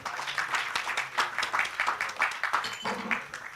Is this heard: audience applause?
yes